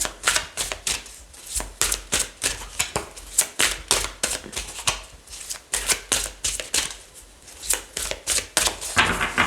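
Tarot cards being shuffled and drawn, a rapid run of crisp riffling slaps and flicks repeating steadily throughout, close and fairly loud with no voices.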